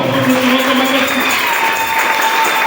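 A church congregation at a Congolese revival service cheers and applauds, a steady wash of clapping and crowd noise filling the space, with a voice speaking over it.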